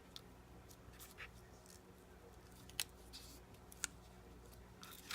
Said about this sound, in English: And then just trim up your excess.